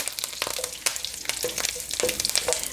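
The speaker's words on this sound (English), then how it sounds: "Once they start to splutter, I'm adding curry leaves, a lot of them." Curry leaves spluttering in hot oil over mustard seeds: rapid crackling pops and a steady sizzle, close and lively, with no talk.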